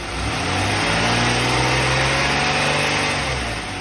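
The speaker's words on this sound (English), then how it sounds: "I will now rev the engine a little bit" A 2000 Buick LeSabre engine revs up steadily, its pitch climbing and holding high before easing slightly, loud and close with no voices.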